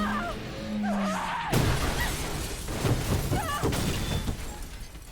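A loud crash with shattering metal debris in the video game Resident Evil 3 Remake, followed by continued rough scraping and clattering impacts and engine-like noise, dense and close.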